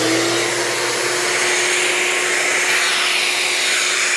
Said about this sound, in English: So I'm going to go ahead and start my dust collection by turning on the shop vac.